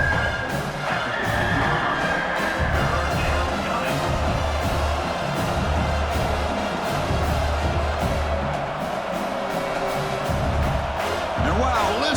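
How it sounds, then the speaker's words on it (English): Simulated stadium crowd roar in EA College Football 26 during Oklahoma at South Carolina, a dense, steady wall of cheering and noise running throughout beneath continuous play-by-play commentary. "wow, listen to this crowd noise. This stadium is vibrating."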